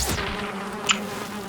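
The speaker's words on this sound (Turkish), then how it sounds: "Samet arı var" A short burst of bee buzzing from the video game Valheim, steady and fairly loud, with a brief click partway through.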